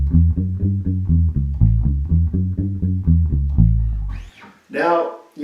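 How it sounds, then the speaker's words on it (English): A bass guitar played with a muted thumb technique gives short, rounded, damped notes in a steady rhythmic run, loud and close, followed by a brief spoken voice at the end. "today I'm going to show you how to play with a muted thumb technique"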